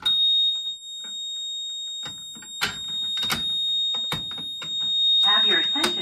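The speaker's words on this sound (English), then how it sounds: "So we're gonna pull it here and we're gonna set off the fire alarm." A building fire alarm set off by pulling a manual pull station, with a steady high electronic tone running throughout, broken by loud clattering strobe-like pulses and other noises.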